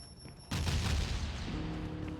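Bomb traps blast in the video game Meet Your Maker, a sudden loud booming burst that rumbles on for over a second and a half before settling into a lower, droning tail.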